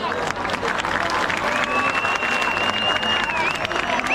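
A crowd applauds at a Dahi Handi event in Roha, a dense continuous wash of clapping with background babble and a whistle-like tone.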